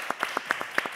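Church congregation applauding: a quick run of sharp, distinct hand claps at an uneven rhythm, fairly close and moderately loud, with no voices over them.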